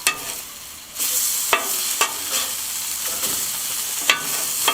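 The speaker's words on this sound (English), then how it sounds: "And we give them a bit of a fry." Potatoes for bratkartoffeln frying in a pan, a steady close sizzle with several sharp scraping knocks at irregular intervals.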